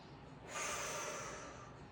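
One quick, sharp breath drawn in through the nose during a fascial movement exercise. It is a close, airy snort-like sniff lasting about a second, and no talk is heard.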